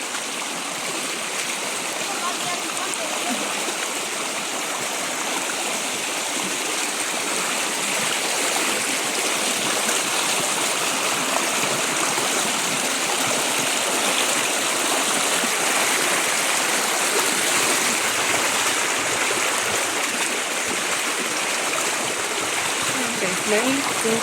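Wang Chung stream in Tai Po flows in a constant, close rush of water, a broad steady hiss and burble that holds unchanged throughout with no voices.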